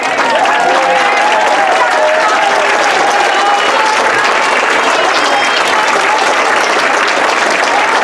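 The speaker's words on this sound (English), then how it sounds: "any in attendance tonight please stand to receive a warm round of applause for their contributions to the Wilmington Band" Loud, sustained applause from an audience at the Wilmington Greyhound Band's Meet the Band Night, honoring band alumni, dense steady clapping with crowd murmur and a few cheers throughout.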